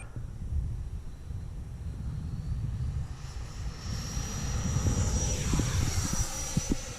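An Arrows Marlin 64mm electric ducted fan RC jet on its maiden flight, with no stabilization, flying into the wind: a steady whooshing fan whine that swells and rises in pitch as the jet passes, heard alone over light wind rumble.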